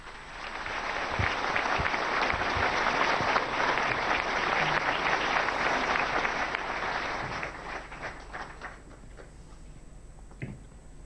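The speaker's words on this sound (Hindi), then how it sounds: "जोरदार तालियों के साथ स्वागत कीजिए माननीय प्रधानमंत्री श्री नरेंद्र मोदी" Loud, sustained applause from a large audience at an official government event welcoming the Prime Minister, dense clapping holding steady for several seconds before thinning out toward the end.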